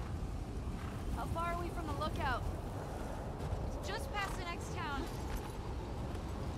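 Constant wind roars and buffets in the background of The Last of Us Part II gameplay while voices talk intermittently over it.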